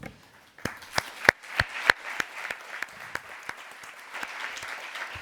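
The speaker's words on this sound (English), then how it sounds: "I would like a round of applause for our panel" Applause for a panel at an EU energy conference: sparse, distinct claps from a small audience, starting after a brief pause and building into light, scattered clapping that continues steadily without voices.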